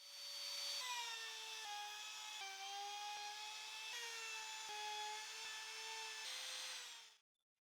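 A router cuts a groove in reclaimed wood clamped to a workbench, whining at a high steady pitch for about seven seconds with slight shifts as it moves along the piece, then stopping abruptly into silence.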